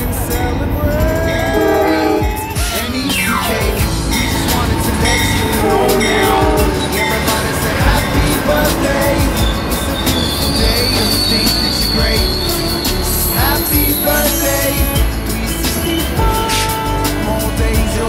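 A heritage-unit locomotive passes close and loud, its horn sounding repeatedly over the rumble and clatter of the rail cars going by.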